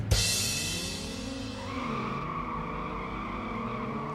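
A car engine in a Need for Speed Underground drag race roars steadily and loudly after a sharp burst at the start, then holds a sustained revving drone through to the end, with no talk.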